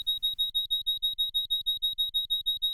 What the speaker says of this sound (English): There's also some nice high-pitched tones from the killer birds.